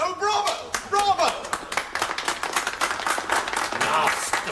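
Audience clapping and cheering in a theatre scene of a comedy radio play, a burst of applause running throughout with excited voices calling out over it.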